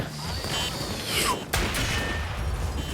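RPG blasts and gunfire in the video game Payday 2, with a sharp explosive crack partway through over a dense, noisy backdrop of game effects and scattered shots, at moderate level.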